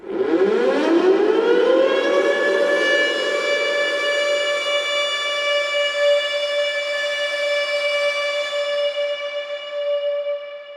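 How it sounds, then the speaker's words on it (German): A recording of an old civil defense siren, pitched down, winds up from a low growl to a loud sustained wail that holds steady for several seconds with a rich, echoing tone and no voices. "Das hier ist ein freies Sample, das jemand von einer alten Sirene aufgenommen hat."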